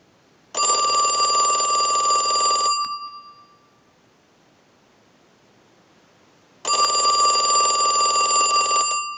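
A Mickey Mouse telephone's bell rings during a ring cycle driven by an analyzer: two loud, close, bright metallic rings of about two and six seconds each, separated by a silent pause.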